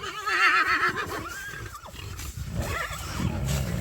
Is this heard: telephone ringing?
no